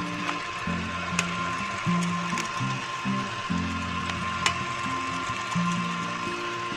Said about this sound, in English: Now with the mixer still on but at a lower speed, I'm going to crack in 3 eggs.